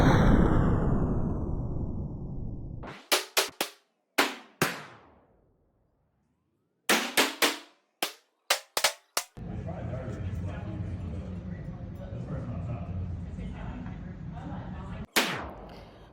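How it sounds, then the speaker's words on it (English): A full-size 9mm duty pistol fires at a shooting range: about a dozen loud, sharp shots come in quick bursts of three to six, separated by pauses, with steady range noise filling the gaps. "by the time you get to 67 shots on a 9mm full duty gun, your arms are shaking"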